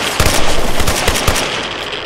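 Rapid automatic gunfire in S.T.A.L.K.E.R. Anomaly, a close, dense rattle of shots in quick succession over roughly two seconds, with no talking.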